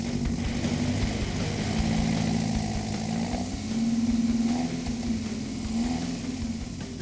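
A Talbot Sunbeam Lotus engine revs up and down in steady swells, loud and close, with a rough uneven note and occasional popping backfires through the exhaust.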